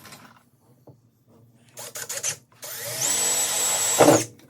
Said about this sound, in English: And I'm also drilling a pilot hole here first.